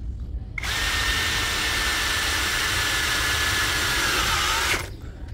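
A Doliz BD636 cordless brushless drill motor whirs steadily at high speed for about four seconds, smooth and even, then stops, leaving quiet room tone.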